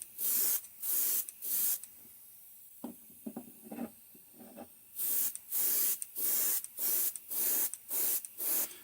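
An airbrush sprays coats of silver paint onto a threadfin shad fishing lure in a run of short hissing bursts, then a pause of quieter handling, then more evenly spaced close spray bursts.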